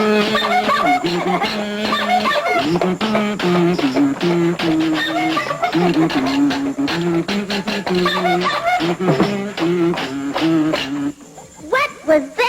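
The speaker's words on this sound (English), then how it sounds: "That was the sound of a one-man band." A one-man band plays a busy, dense mix of several instruments at once, with a steady beat and bright melody running loud and continuous for about eleven seconds before breaking into a few short bursts.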